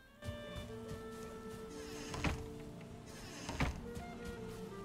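Piglets in the video game Valheim squeal and grunt in short, faint bleating calls, two sharper bursts standing out over a steady low game hum with tonal background music.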